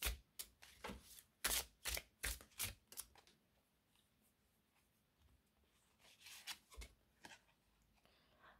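Oracle cards are shuffled and drawn for a Libra tarot reading, giving a burst of quick papery riffles and slaps in the first three seconds, then a quiet pause and a second shorter flurry of card handling near the end, with no talking.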